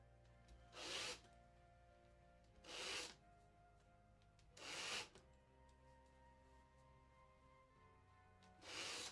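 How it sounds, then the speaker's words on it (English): A small power tool whirs in four short bursts of about a second each, spaced a couple of seconds apart, over a quiet steady hum. "And now for the power tool, the small ones."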